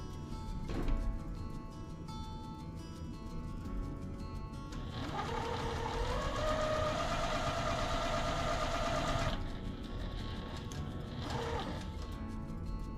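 Sewing machine stitching quilt pieces, a quiet motor hum with a brief thump, then about five seconds of faster, louder whirring stitching that stops and returns to a softer idle.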